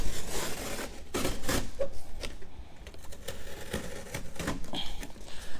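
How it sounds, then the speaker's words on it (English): A blade slices down the sides of a cardboard box during an unboxing, giving a run of close scraping, rasping cuts with short bursts and pauses, no speech over it. "So let's go ahead and cut the sides of that box."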